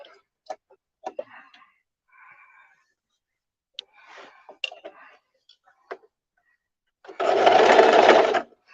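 A sewing machine stitches a simple skirt in one loud, steady burst of rapid needle whirring near the end, preceded by faint clicks, rustles and handling noises.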